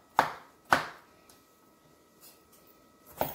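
A few sharp knife chops through potatoes on a board, three distinct strikes spaced unevenly with quieter taps between, in a quiet room.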